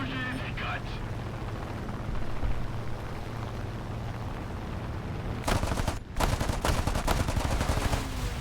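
Aircraft guns and rockets fire in a War Thunder dogfight with a Spitfire against a Yak-3. A steady engine drone runs first, then dense, rapid bursts of loud gunfire erupt near the end, with voices in the background.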